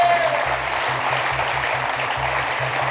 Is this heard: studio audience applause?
yes